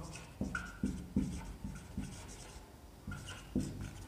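Writing on a board during a classroom grammar lesson, with faint repeated scratchy strokes in short bursts and small pauses between them.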